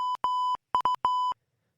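Morse code SOS sent as a steady electronic tone: three short beeps, three long, then three short, loud and clean against silence with no voices.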